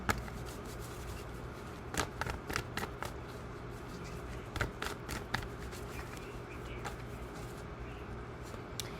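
Tarot cards are shuffled quietly up close, with soft papery riffles and scattered light flicks and taps over a faint steady background hum.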